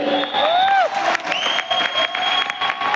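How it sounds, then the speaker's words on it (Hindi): An audience at a training program event in Lucknow gives loud applause, with dense clapping mixed with whistles and cheers throughout. "एक और जोरदार ताली"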